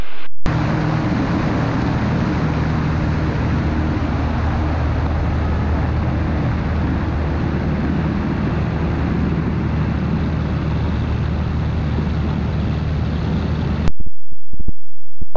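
A steady, loud drone from the engine of an Inpaer Conquest 180 light aircraft during a full-flap, power-on stall test, heard continuously with no talk before it cuts off abruptly near the end.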